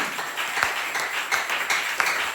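Church congregation clapping in praise of Jesus, a short burst of continuous applause with a few sharper claps standing out, under a steady high electronic whine.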